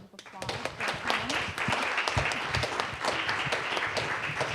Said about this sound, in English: Big round of applause for our